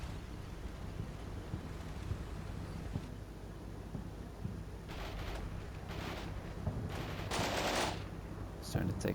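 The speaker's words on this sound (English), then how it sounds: "Starting to take fire here." Gunfire in the Combat Mission: Shock Force 2 wargame, with several bursts of shots crackling at a middle distance over a steady wind-like rumble.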